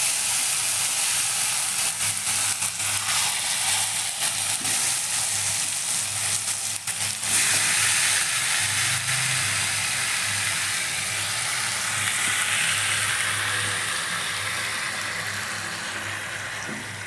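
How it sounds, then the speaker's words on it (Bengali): Chicken sizzles and fries in a kadai with a little oil, giving a steady, close hiss that runs throughout with occasional faint clinks. "এবার কিন্তু চিকেনটা আমি কড়াইয়ের মধ্যে দিয়ে দেবো"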